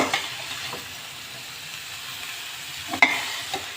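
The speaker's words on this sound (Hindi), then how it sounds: "अब ये सब डाल के इसे अच्छे से मिक्स कर लेते हैं।" Spring roll vegetable filling seasoned with crushed red chilli being stirred in a hot pan, a steady soft sizzle with scraping spoon strokes, a sharper clatter near the end, close and moderately loud with no talking.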